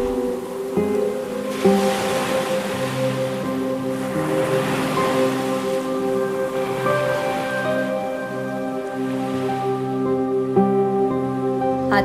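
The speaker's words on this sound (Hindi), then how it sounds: "आती जाती लहरों को गौर से देखता रहा।" Ocean waves wash ashore in a steady surging rush, mixed with sustained musical tones and drones beneath, as a sound effect in a Hindi audio story.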